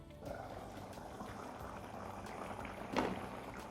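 Thick cluster bean masala curry simmers in a pot with hot water added, a soft, low bubbling and gurgling close by, with one brief louder plop near the end.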